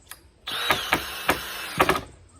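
A drill drives used screws into pallet wood for a gate, giving a close, loud whirring run with repeated ratcheting clicks and a few sharp knocks, and no voices.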